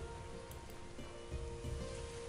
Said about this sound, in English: Oh, it's raining in the universe.